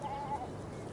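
A single faint sheep bleat rises briefly out of a muffled outdoor background as a flock is herded, distant and soft with no other clear sounds.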